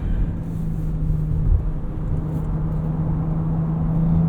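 A 2023 Porsche Cayenne S at speed on a racetrack at the Porsche Experience Center in Los Angeles, giving a steady, close, low engine and road rumble with a faint hum and no voices.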